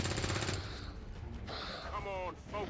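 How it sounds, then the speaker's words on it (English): Rapid gunfire bursts from an XCOM 2 firefight open the moment, then give way to softer game effects and a brief voice. "I'm just gonna shoot."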